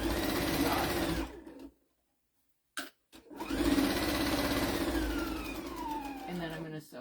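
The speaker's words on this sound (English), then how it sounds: "I'm going to sew all the way to the edge and then back it up" A sewing machine stitches a basket towel in fast, steady runs, stopping for a couple of seconds before resuming, with a voice heard briefly near the end.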